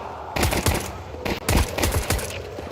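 Pistol fire in a Counter-Strike 2 playoff match: a rapid run of sharp, punchy shots, several in quick succession, close and loud over a steady background hum.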